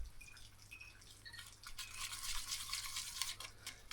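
Two-part anchoring resin being stirred and mixed by hand, a soft, steady wet scraping and squelching that rises in the second half, close and continuous with no talk.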